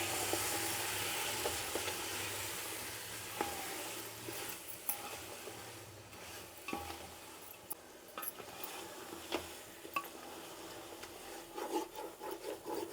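Ground chicken biryani masala being stirred in a pot, a rough scraping rasp of the spoon against the pot with irregular knocks and scrapes, close and moderately loud, with no speech.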